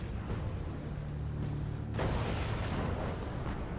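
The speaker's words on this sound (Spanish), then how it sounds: "Hacen más de 600 disparos con sus cañones de 12 centímetros." Heavy 12 cm naval guns fire during a World War II sea battle, a dense roaring blast of noise that swells sharply partway through and rumbles on with no voices.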